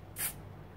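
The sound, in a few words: spray paint being sprayed onto hot glue tree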